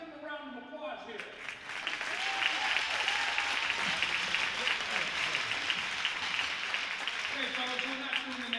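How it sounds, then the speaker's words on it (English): Steady applause from a crowd before a Canton-Akron Jets versus Team Ohio game, dense and sustained, with some speech at the start and end. "Give them a round of applause here."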